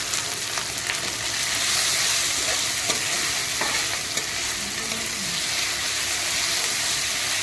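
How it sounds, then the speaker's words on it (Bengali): Chilli soybean being stirred in a pan over low heat, giving a steady, close frying sizzle with scraping stir strokes throughout and no speech. "একটু নাড়াচাড়া করবো সুন্দর করে। হালকা আঁচে এটা করতে হবে।"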